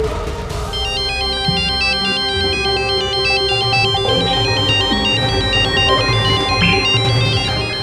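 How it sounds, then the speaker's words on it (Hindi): A phone ringtone plays a bright, looping electronic melody continuously and loudly over a full musical backing, with no talking. "राधा का फोन"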